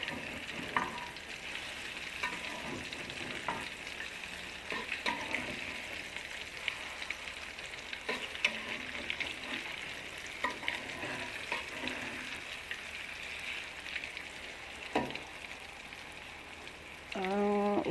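Steady oil sizzle and crackle from tofu patties frying in a wok, with occasional soft clinks and scrapes of a utensil; no talking.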